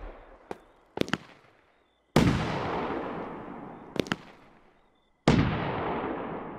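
Fireworks go off in the game Fireworks Mania: a few sharp cracking pops, then two big booming bursts, each decaying into a long rumbling crackle, all loud with no voices over them.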